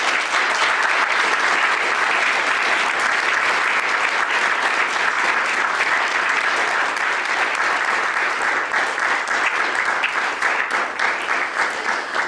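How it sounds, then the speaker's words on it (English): Sustained, dense applause from a large conference audience at a forum stage in Bratislava, loud and steady throughout without pause. "I would like to ask you for giving them great applause."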